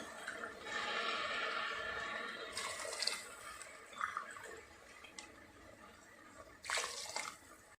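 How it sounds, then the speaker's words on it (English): Water pours and splashes into a cooker for bisi bele bath in a steady rush, followed by a few brief sloshes and drips, fairly quiet and close. "So here I am adding the water."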